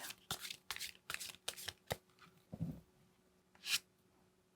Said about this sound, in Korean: 여러분을 위한 이 관계를 위한 좋은 카드를 한번 뽑아보도록 할게요